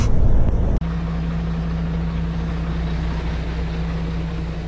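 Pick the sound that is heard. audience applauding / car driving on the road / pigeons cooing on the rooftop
car driving on the road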